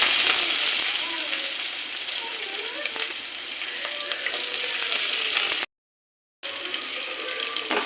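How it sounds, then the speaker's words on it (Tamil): Chopped onion with garlic and green chilies sautéing in a pan gives a loud, continuous sizzle and hiss throughout, broken once by a short silent gap, with no talking. "இது கொஞ்சம் வதங்கட்டும்."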